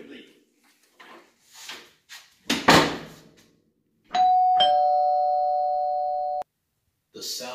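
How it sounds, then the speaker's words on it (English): A doorbell rings once with a steady sustained electronic tone lasting about two seconds, clear and close, after scattered voices and shuffling sounds, with talking resuming at the end. "The sound of the doorbell."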